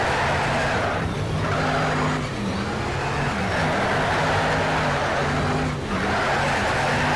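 Dodge Challenger in NFS: Shift at Silverstone National, engine roaring steadily with wheel spin and recurring tire squeal, loud and close, no talk.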